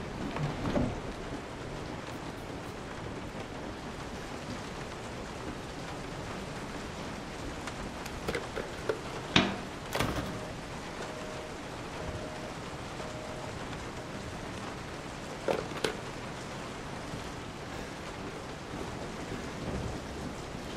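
Rain pours steadily in the Resident Evil 7 video game, a dense hiss under several deep rumbles and sharp cracks of thunder spread across the stretch, with no one talking.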